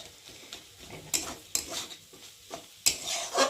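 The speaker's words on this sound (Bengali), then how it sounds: "খুন্তি দিয়ে একটু ভালো করে নেড়ে দেবো, যাতে আরও ঝরঝরের মতো হয়" Maggi noodles with potatoes being stirred with a spatula in a pan, heard as close scraping and clattering strokes in an irregular rhythm, some sharper metal knocks, over a faint sizzle.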